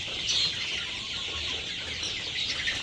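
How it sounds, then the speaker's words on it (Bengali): Egyptian Fayoumi chickens, about two months old, cluck on a farm holding around 500 birds, a steady close flock chatter with no voices over it. "এখানে প্রায় 500-র মতো মুরগি আছে।"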